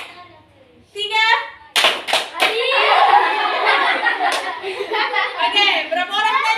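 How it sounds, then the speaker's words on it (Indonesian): In a fifth-grade classroom, children give a few sharp hand claps in quick succession, mixed with a teacher's voice speaking over the room. "Tepuk satu. Tepuk dua. Tepuk tiga."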